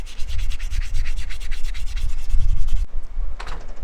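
Steady, loud sanding of a wooden gunstock, a dense rhythmic scraping rub that runs close and continuous for about three seconds, then breaks into a short pause and a brief final stroke.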